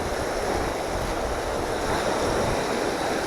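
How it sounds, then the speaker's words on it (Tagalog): Steady roar of strong wind buffeting the microphone over crashing surf, continuous and loud with no voices. "pag ganitong malakas yung hangin, tsaka alon"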